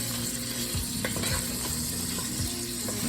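Shrimp with smoked sausage and bacon sizzle in a pan, a steady dense frying hiss close up with a few scraping stirs and low knocks.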